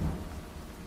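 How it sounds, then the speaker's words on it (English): Steady rain hisses softly with a low rumble underneath, a dense, even wash of sound with no voices. "the rain ending it is perfect"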